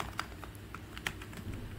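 Typing Rust code on a computer keyboard: quiet, irregular key clicks, each a short tap, with a few sharper strokes standing out against low background hum, no talk.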